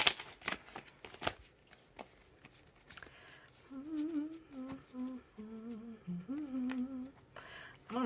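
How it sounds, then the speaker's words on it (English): Tarot cards riffle and shuffle in quick bursts, with soft slaps and flutters; a low humming voice drifts over the later part. "none of the cards are pre-shuffled, so I will be shuffling on camera"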